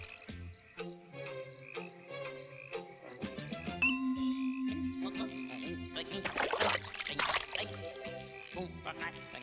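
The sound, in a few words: frog croaking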